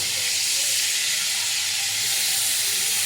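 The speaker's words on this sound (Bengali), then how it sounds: "মাছটা ভাজতে বসিয়েছি।" Fish fries in a pan on a home stove, giving a steady, close, bright sizzle and hiss with no voices.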